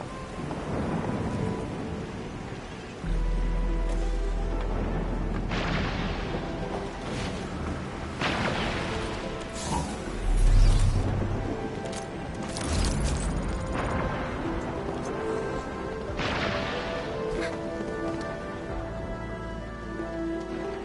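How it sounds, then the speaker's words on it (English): Steady heavy rain with repeated deep rumbles and cracks of thunder in a video game storm, loud and close, the downpour constant while booming thunder rolls swell and fade several times. "It's raining harder. I can't hear anything except for the rain."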